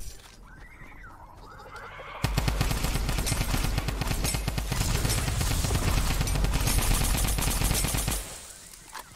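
Dense, rapid gunfire from the Fortnite video game erupts suddenly and runs loud and continuous for about six seconds before cutting off, with a horse-like whinny and game sounds faintly audible beforehand.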